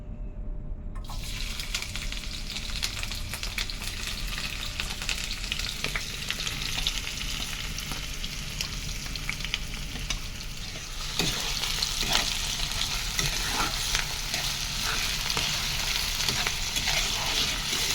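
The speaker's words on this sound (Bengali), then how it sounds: "প্রথমে বেরেস্তাটা ভেজে নিচ্ছি" Onions being deep-fried into crisp beresta for biryani, a steady loud sizzle and bubbling of oil that holds throughout and grows slightly brighter and busier partway through, with occasional stirring clinks and no talk.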